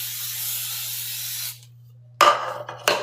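Cooking spray from an aerosol can hisses steadily onto a cake pan for a lemon pound cake, a loud spray of about a second and a half, then a pause and two shorter sputtering bursts.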